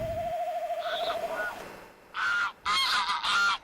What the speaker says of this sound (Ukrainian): Почався і проліт гусей. Їх призивні крики лунають і вдень, і вночі.